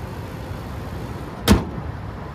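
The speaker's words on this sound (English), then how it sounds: "let's go ahead and pop the hood" A single short, sharp mechanical clunk comes from the hood latch being popped on a 2012 Lexus GX 460 with a 4.6-liter V8, a brief nearby click over quiet background noise.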